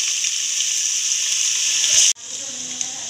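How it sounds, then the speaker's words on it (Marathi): Chopped onion fries in hot oil with whole spices while a crab curry is being made, giving a steady, bright, hissing sizzle that breaks off sharply and then comes back softer. "आपला कांदा व्यवस्थित तळून झालेला आहे"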